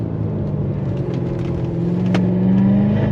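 Lingenfelter-tuned Chevrolet C7 Corvette Z06 engine accelerating on throttle, a loud continuous roar whose pitch climbs toward the end with no talking.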